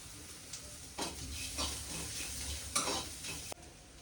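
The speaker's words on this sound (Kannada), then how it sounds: "ಟೊಮೆಟೊ ಮತ್ತು ಕರಿಬೇವು ಬಿಟ್ಟು ನೆಲ್ಲ ಹುರ್ಕೋಬೇಕು ಎಣ್ಣೆಯಲ್ಲಿ." Oil sizzles in a pan while something is stirred, with soft scraping strokes and a few sharper clinks, fairly quiet and close.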